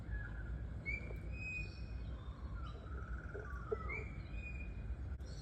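Morning birdsong in a garden: thin, high chirps and whistled phrases come and go over a steady low background hum, faint and somewhat distant, with no talking.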